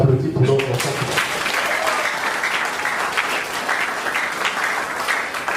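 Applause breaks out at a civil wedding ceremony in a town hall in Moungali, Brazzaville: a steady, dense wash of many hands clapping from a seated crowd, sustained throughout after a brief voice at the start.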